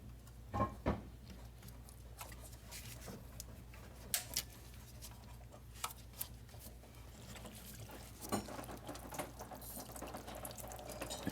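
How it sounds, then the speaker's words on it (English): Coolant drains from the upper radiator hose of a Mercedes Sprinter van as a faint, steady trickle and patter of liquid, with a few soft drips and knocks scattered through it and no one speaking. "So we're gonna let coolant leak out"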